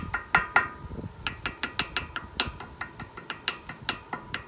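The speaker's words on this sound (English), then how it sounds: "Notice I'm using a brass hammer so I don't mess up the threads." A brass hammer taps tapered washers onto the wheel hub studs of an 80 Series vehicle during wheel bearing work, about fifteen sharp metallic clinks in a fairly even rhythm, close and clear with no talking.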